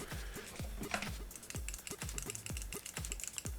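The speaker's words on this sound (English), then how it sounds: "So this is the standard mechanical buttons," Standard mechanical face buttons on a BEITONG Zeus 2 gaming controller clicked in a steady, fairly quick series of about sixteen sharp, close, distinct clicks with no talking.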